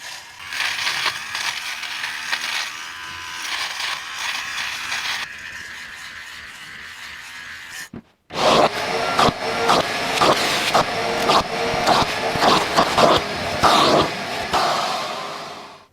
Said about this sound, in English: I got this little battery powered lint shaver off eBay for not a lot of money.